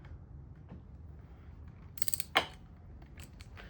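A socket wrench ratchets in a brief quick burst of clicks while loosening bolts on a 1977 Johnson 9.9 hp outboard motor, followed by a sharp metallic clank, close and quiet with no talking.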